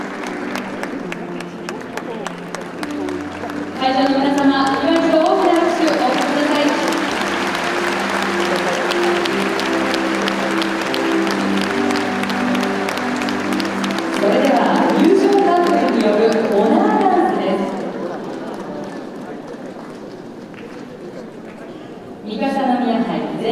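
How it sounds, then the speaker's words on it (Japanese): A large audience at a ballroom dance championship in Tokyo applauds steadily for over twenty seconds, with loud sustained clapping and a tonal murmur running beneath it. "会場の皆様、今一度大きな拍手を送ります。"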